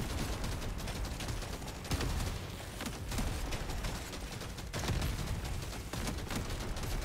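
Electrical weapon in Deep Rock Galactic: Survivor firing nonstop, a dense, crackling, rapid-fire barrage that stays steady and loud throughout, mixed with constant battle noise and no one talking.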